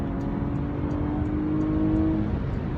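A 2018 Porsche Macan GTS engine pulls steadily under acceleration in comfort mode, a loud, continuous drone with a rising tone held close throughout, with no talking.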